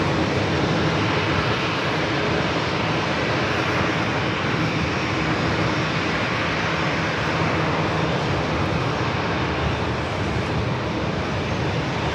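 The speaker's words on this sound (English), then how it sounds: "Next arrival is Southwest Airlines, flight 111, committed from Phoenix, 737-700." A Southwest Airlines Boeing 737-700 from Phoenix arrives at San Diego airport, giving a steady, broad jet engine roar that holds at even loudness.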